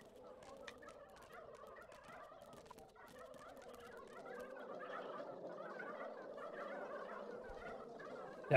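Turkeys gobble in the video game Dungeons 3, a steady, dense chorus of fowl calls that runs throughout at low level and grows slightly fuller toward the end.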